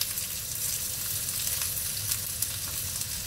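Onion frying in a pan as the first step of Ilocano pork liver igado, a steady close sizzle that runs throughout with no voices over it.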